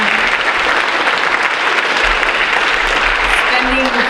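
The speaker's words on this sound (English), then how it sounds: "I would really appreciate one more round of applause for the advisors." Sustained applause from an audience honouring advisors at a National Honor Society induction ceremony, steady and fairly loud, with a low hum beneath the clapping.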